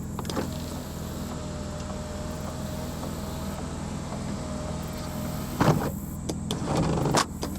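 Sunroof motor on a 1994 Pontiac Bonneville SSEI running with a steady electric whine inside the car for several seconds, followed by a few louder clicks and thumps near the end.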